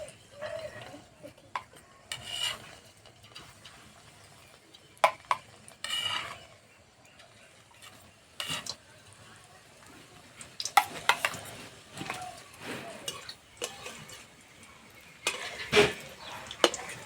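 Semolina and egg pitha fritters fry in a pan, a low steady sizzle under repeated scraping and clinks of a utensil against the pan and metal dishes, with louder scrapes scattered throughout.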